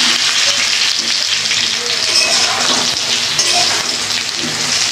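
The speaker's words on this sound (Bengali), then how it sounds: "আর ততক্ষণে আমার পটল আলুটা ভাজা হয়ে গেছে" Pointed gourd and potato pieces frying in a pan give a loud, dense, continuous sizzle that sounds almost like heavy rain, heard up close without pause.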